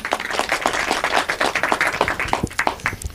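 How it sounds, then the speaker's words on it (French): An audience claps steadily for a few seconds, loud and close, with dense individual hand claps forming a brief round of applause at a French talk about harassment. "On peut l'applaudir quand même"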